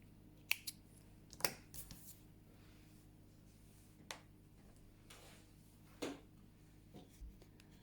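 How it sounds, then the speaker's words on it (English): Small scissors snip through a yarn tail at a crochet project, a few sharp, quiet clicks spaced apart in an otherwise still room. "Let me cut the yarn tail."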